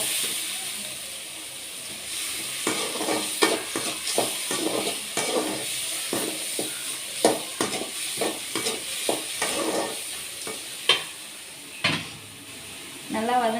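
Food sautéing in a pan, with a steady sizzle under repeated stirring scrapes and clinks of a utensil against the pan, close and fairly loud for most of the stretch.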